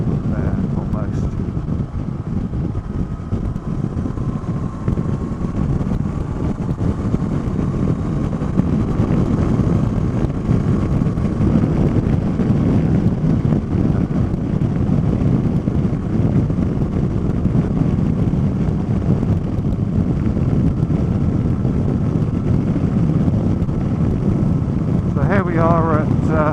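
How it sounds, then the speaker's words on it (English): A 2016 Honda CB500X at full throttle near 74 mph with heavy wind buffeting, a loud constant roar of wind and engine throughout. "the one thing I'm really noticing is the wind buffeting"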